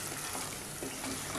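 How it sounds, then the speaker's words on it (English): Water added little by little to simmering chicken korma gravy in a pan, giving a dense steady sizzle and bubbling hiss, close and continuous. "add water little by little."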